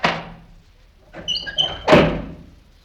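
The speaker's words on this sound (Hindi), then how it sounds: "पिछला दरवाजा कौन खड़खड़ा रहा है" A wooden back door of a house rattles and knocks, a couple of dull thumps followed by a louder banging clatter, close by with no talk.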